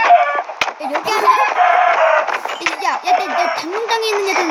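Chickens cluck and peep in a video game, short chirpy calls scattered over clicks and small clinking effects, with players talking over them.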